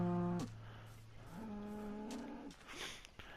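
Minecraft cows low in long drawn-out moos, two or three calls one after another that fall in pitch, heard fairly clear with faint game sounds under them and no talk.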